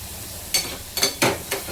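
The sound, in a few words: prawns frying in butter on a tawa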